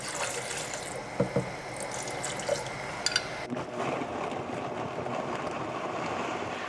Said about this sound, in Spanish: Un poquito de agua.